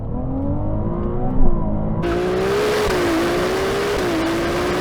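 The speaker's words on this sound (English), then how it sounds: "let's see what the 296 GTB is like to drive" A Ferrari 296 GTB sports car engine revs and accelerates hard, its tone rising and shifting with gear changes, loud and close, growing more intense partway through.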